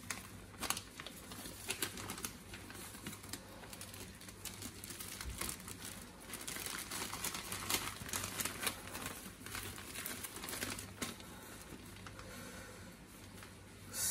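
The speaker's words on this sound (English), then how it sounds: "Now place the plastic bag inside the biohazard bag." A plastic bag is pushed into a biohazard bag, giving faint, scattered crinkling and rustling in a quiet room, with soft irregular handling noises throughout.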